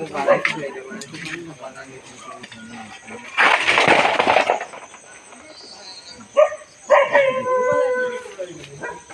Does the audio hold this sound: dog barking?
yes